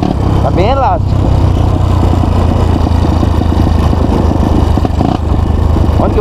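A Honda CRF motorcycle engine idles steadily and loudly throughout, a low continuous rumble with a brief higher warbling tone near the start.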